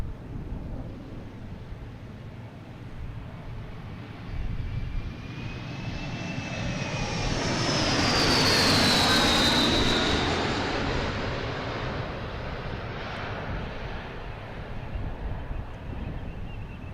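A Delta jet airliner on approach into Boston Logan rises from distance to a loud, close roaring pass with a whining engine tone sweeping downward, then fades back into a steady rumble with wind across the microphone.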